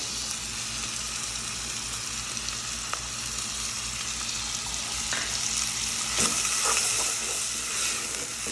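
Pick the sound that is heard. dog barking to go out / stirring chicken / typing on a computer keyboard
stirring chicken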